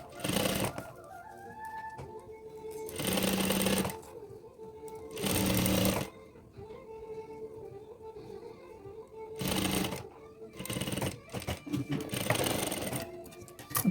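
A sewing machine stitches a canvas shirt collar in three or four loud mechanical runs of a few seconds each, separated by quieter pauses with faint handling noise, close up, without talk.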